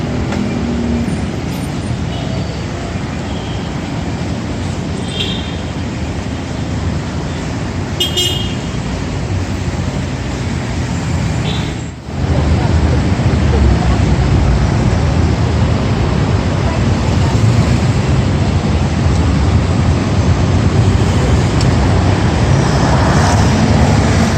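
Rush hour traffic in Makati, Metro Manila, forms a loud, dense roar of cars and buses, with a brief horn toot rising above the steady street noise.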